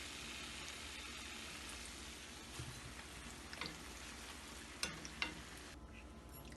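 Khasta papri, a crisp fried snack, frying in hot oil with a steady broadband sizzle throughout, broken by a few sharper crackles and pops near the end as the pieces are lifted out; no one speaks.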